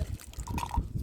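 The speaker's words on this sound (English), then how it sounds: "that's a slow pour" Coffee poured slowly into a cup, a soft uneven trickle of liquid, close and faint.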